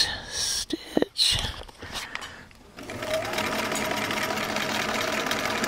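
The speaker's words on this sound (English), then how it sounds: "the machine, for some reason, sounds much louder on camera than it does in real life" A Bernina 930 sewing machine starts up after a few handling clicks and rustles, then stitches in a steady, loud, close mechanical hum.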